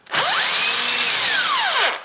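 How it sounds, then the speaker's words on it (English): An electric drill driver spins up to undo bolts on a Ford Duratec engine's drive belt tensioner, a loud close whine rising in pitch, holding for nearly two seconds, then winding down. "Then I use my electric drill driver that we can open this faster."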